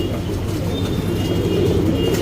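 Pigeons kept in a loft coo softly and continuously against a dense, steady background hum, with no voices.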